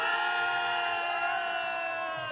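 A crowd at a Nepali inter-society volleyball award ceremony in Croatia hoots and cheers in one sustained, tonal whoop, loud and close, lasting a couple of seconds.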